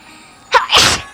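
A single sharp sneeze, a quick intake followed by an explosive burst, close and loud against a quiet background.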